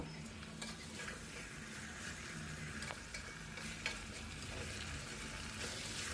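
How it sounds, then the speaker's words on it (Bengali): Spicy chicken and fried potatoes sauté in a pan, giving a steady, quiet sizzle with occasional faint clicks of a utensil stirring, heard close with no voices. "আলুর সাথেও চিকেনটা খুব সুন্দর করে আরও কিছুক্ষণ আমি কষিয়ে নেব।"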